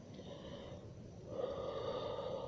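A slow, steady exhalation during a yoga stretch on all fours, a soft airy breath that swells partway through and holds fairly even, close and quiet, with no talking.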